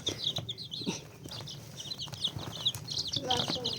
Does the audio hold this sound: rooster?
yes